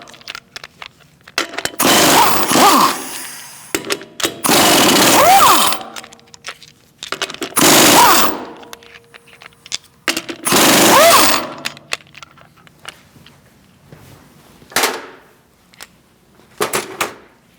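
Pneumatic impact gun loosening lug nuts on a 2016–2019 Chevrolet Cruze front wheel, heard as several loud, rattling bursts of one to two seconds each, separated by short pauses and ending with shorter blips.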